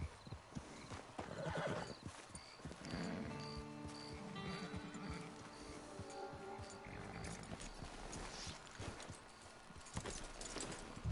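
A horse in Red Dead Online whinnies with a rising, drawn-out call while hooves clop steadily underneath, fairly close and loud, with game ambience around it.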